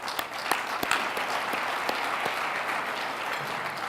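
Steady applause fills a hall during a city mayor's State of the City address as a county supervisor is recognized, with dense clapping and a few sharper individual claps standing out throughout.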